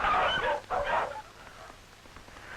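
Sled dogs in an old Arctic village near Point Hope bark and yelp loudly in two short bursts, then fade to a faint background murmur.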